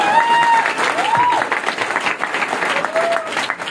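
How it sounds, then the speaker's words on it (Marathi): Loud, dense applause from an audience at a motivational event, steady clapping filling the whole stretch with a few whistles rising above it. "एकदा जोरदार टाळ्या तुमच्यासाठी"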